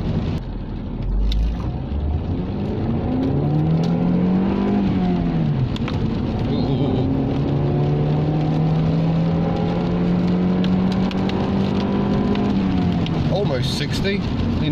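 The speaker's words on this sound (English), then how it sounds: "It's got that same typical sort of growl you get from Vauxhall engines" A Vauxhall Vectra B revs hard under acceleration on a country road, its engine note climbing and dropping in a loud, close growl that holds through the gears.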